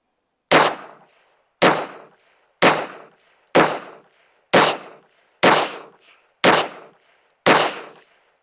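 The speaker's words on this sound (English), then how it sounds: "Let's shoot a group at that bottom right." Eight loud, sharp shots from a Walther P38 pistol firing Remington range ammunition at an outdoor range, evenly spaced about a second apart, each crack followed by a brief decaying echo.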